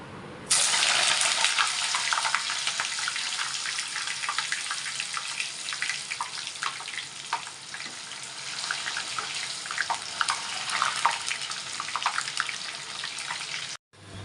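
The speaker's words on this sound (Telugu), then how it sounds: "ఇది ఇప్పుడు కొంచెం కొంచెంగా వేసుకొని చిప్స్ ఫ్రై చేసుకుందాం" Banana chips fry in hot oil with a continuous, fairly loud hiss and crackle and scattered pops, starting suddenly and stopping near the end.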